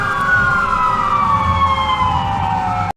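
A cartoon fire engine's siren wails in steady overlapping tones near and loud, cutting off abruptly at the very end.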